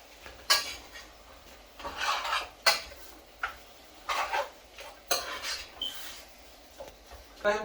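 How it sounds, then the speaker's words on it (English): A knife chops shallot on a board for a Guyanese lamb curry with potatoes, giving about a dozen irregular crisp cuts and scrapes at close range. "I'm cutting up my shallot now."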